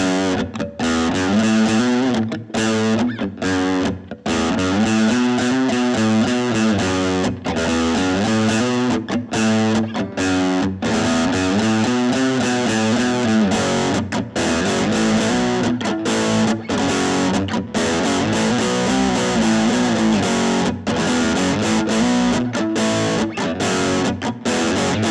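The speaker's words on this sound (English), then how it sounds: "the 20G has the sonic flexibility to dial in everything from spanky funk tones to roaring rock and roll" Electric guitar played through a Fender Frontman 20G amplifier with its 8-inch speaker, steady crunchy distorted chords and riffs ringing loud and continuous with brief choppy pauses.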